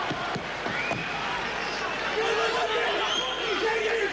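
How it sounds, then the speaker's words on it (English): A crowd at a kickboxing bout between Mike Zambidis and Gurkan Ozkan murmurs and reacts throughout, a steady babble of oohs and ahs under a commentator's voice, with a few impact thuds early on. "Oohs and ahs from this crowd behind every shot thrown."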